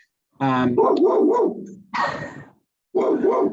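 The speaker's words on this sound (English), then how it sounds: "There's my dog, sorry." Several sharp barks from a dog inside a house, reacting to someone walking past outside; bursts come in three clusters over a few seconds, fairly loud and close, with no talk over them.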